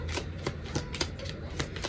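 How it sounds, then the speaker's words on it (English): A tarot deck is shuffled by hand in sharp, crisp riffles, a run of six or seven evenly spaced card snaps up close and alone, with no talk. "Maybe if I shuffle slower, because I do feel like I be shuffling too fast."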